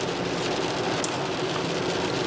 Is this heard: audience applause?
no